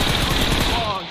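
Rapid gunfire from a shooting video game, a loud continuous burst of close, crackling shots filling the moment with no pause, with faint speech-like sound mixed in.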